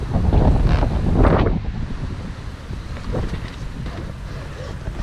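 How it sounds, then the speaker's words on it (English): Gusty wind buffets the microphone outdoors in the Newfoundland wilderness, loud at first and then easing to a steadier rush, with some talking mixed in. "So it's still windy"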